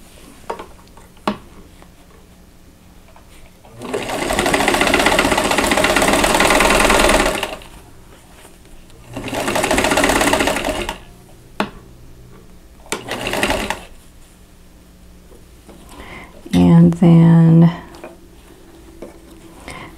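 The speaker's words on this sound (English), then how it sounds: "then I'll sew these two units together" A sewing machine stitches quilt block pieces together in two longer close whirring runs and a few short bursts, with quiet handling clicks between and a voice speaking briefly near the end.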